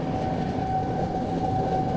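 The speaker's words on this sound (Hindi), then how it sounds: "ये ट्रेन एकदम खनखनाते हुए निकल रही है दया बस्ती से" A train departs from Daya Basti station on the Delhi to Jaipur route, a steady rumbling clatter of wheels and cars with a faint tonal whine, moderately distant and continuous, with no voices.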